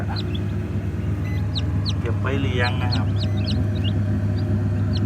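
High, rapid peeping of newborn chicks, a layer-hen and fighting-cock cross, scattered throughout, close by, with someone talking briefly in the middle.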